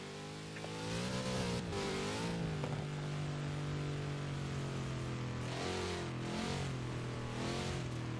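A big Chevrolet engine in Forza Horizon 4 revs and climbs through the gears, with loud, steady drones broken by quick shifts and dips in pitch, close and with no talking over it.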